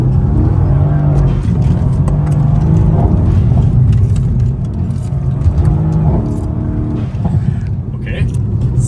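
Mercedes C63 AMG in race mode with traction control off: a loud, steady engine drone fills the whole stretch, rising and falling slightly, and people talk over it.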